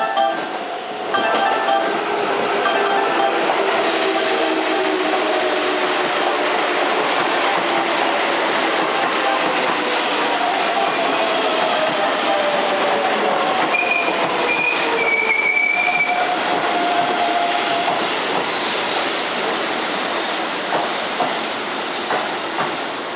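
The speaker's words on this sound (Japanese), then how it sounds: "まもなく1番線を電車が通過します。" A Keihan 2200 series train passes through Chushojima station during a trial run with a new ATS, its steady rolling rumble filling the whole stretch with wheel squeal and brief high tones, loud and close.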